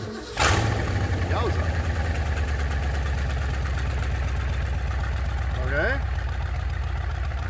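Munsters Drag-U-La coffin car with ten carburetors cranks and fires up, then settles into a steady, loud, close idle, with a brief voice exclaiming at the start and more talk near the end.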